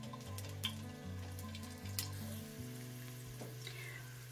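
Garlic frying in oil in a pan, a soft steady sizzle with faint stirring clinks, quiet and alone under a low background hum.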